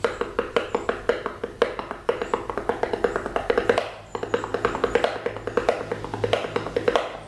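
Drumsticks tap out a repeating right-left-left sticking rudiment in a steady, fast, evenly spaced stream of sharp hits, close and moderately loud, with no talking over it.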